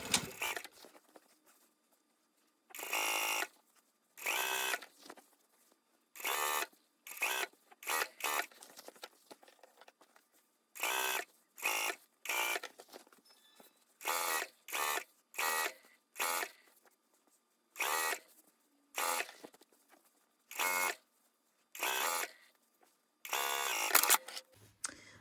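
A sewing machine understitches a jeans waistband in short, sharp bursts of rapid stitching, each a second or so long, separated by quiet pauses while the fabric is repositioned; close and clear with no talking.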